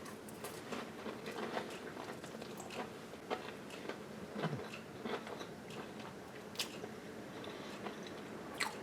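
Homemade Colby cheese, a very soft cheese, being bitten and chewed close to the mouth, with quiet soft squishy chewing and small sticky mouth sounds, no talking.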